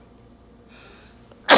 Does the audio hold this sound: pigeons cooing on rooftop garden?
no